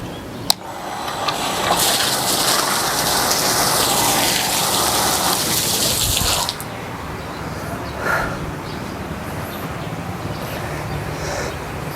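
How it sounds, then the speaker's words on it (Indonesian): Three water pumps running in parallel send water gushing and splashing hard into a tank in a loud rushing burst that drops abruptly to a quieter steady flow partway through. "ketika pompa tadi saya jalankan, maka air itu sampai muncrat, sampai melebihi posisi lubang tandon ya"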